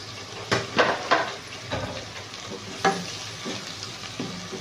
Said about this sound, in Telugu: పచ్చివాసన పోయే వరకు మనం ఫ్రై చేసుకోవాలి